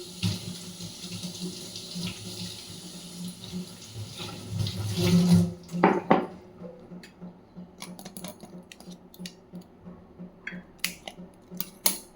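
Small leaves washed under running tap water in a sink, a steady splashing stream for about five seconds that then cuts off, followed by scattered light clicks and taps.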